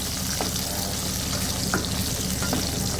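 Small onions sizzle steadily in a hot pan, close and even, with a few faint spoon taps against the metal and no voices.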